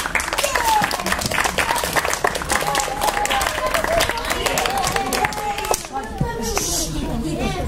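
A crowd claps steadily, loud and close, with children's voices and chatter mixed in at a school graduation song event; the clapping thins toward the end.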